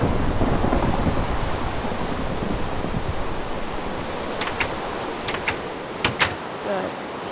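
Heavy rain pours steadily in the block-building game Minecraft, a dense wash of noise that eases slightly, with a few sharp thunder crackles and rumbles near the end.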